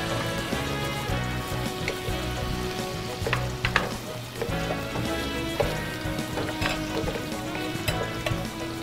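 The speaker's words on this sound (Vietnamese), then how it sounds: "Đó, cho bí rợ vào, mình xào trước đi ha, mình xào bí rợ." Pumpkin pieces stir-fry in a pan in a home kitchen, a continuous sizzle with scraping stirs and occasional sharper crackles, steady and close, with no talking.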